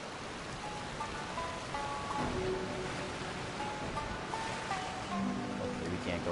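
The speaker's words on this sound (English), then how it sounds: "Is that a waterfall?" In the video game Genshin Impact, a waterfall gives a steady rushing wash of water that runs throughout at moderate level, with faint game tones and music layered over it.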